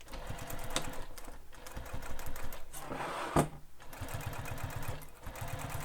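Sewing machine top stitching across the exterior bottom of an Esme crossbody bag, a steady rapid mechanical whir that runs close and continuous, with a brief slowdown and clack partway through before stitching resumes.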